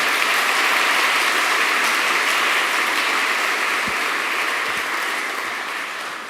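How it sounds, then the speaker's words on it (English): Sustained, steady audience applause rolls through a graduation ceremony hall, a thick even wash of many hands clapping that eases slightly toward the end. "Let's give everyone here a round of applause"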